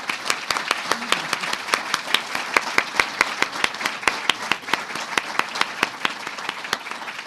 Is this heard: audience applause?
yes